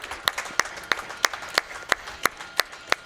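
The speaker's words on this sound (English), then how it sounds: "Clap for that." Clapping at a speedrun marathon comes as a steady, evenly spaced beat, about three claps per second for some nine or ten claps, sharp and fairly close.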